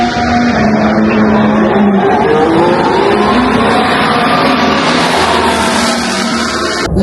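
Formula 1 cars roar past during a Canadian Grand Prix practice session, a loud continuous high-pitched engine scream that stays intense throughout.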